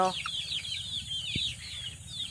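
Tornado hatch gamefowl of the Mt. Banahaw line, a straight-comb hen among others, give soft clucks and chirps in a short burst, close by, with a faint thump partway through and no talk.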